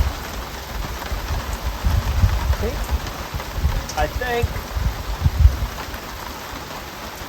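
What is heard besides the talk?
heavy rain falling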